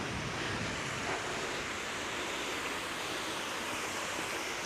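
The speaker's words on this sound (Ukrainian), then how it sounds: "Ось так тут стікає водичка." Water pours down mini waterfalls in a winter park, a constant dense rushing wash that holds steady throughout with no voices.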